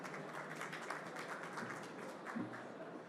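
A conference audience applauds the SensorWorks team, a steady wash of many hands clapping at moderate distance, fairly quiet and even throughout.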